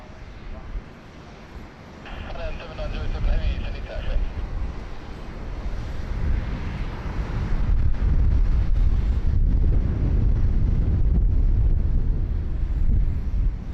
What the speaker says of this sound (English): It's a little windy, but you got to kind of sacrifice the wind